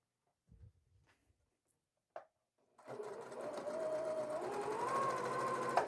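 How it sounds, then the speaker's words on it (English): A sewing machine chain pieces quilt fabric columns at a quarter-inch seam, starting after a few soft handling clicks and a tap, then running in a steady close, rapid mechanical hum that gently speeds up. "I'm going to chain piece these now all the way down these first two columns."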